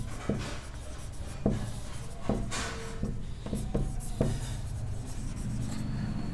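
Pen scratching on paper while a frequency distribution table with tally marks is written by hand, steady close rubbing strokes with periodic taps and lifts.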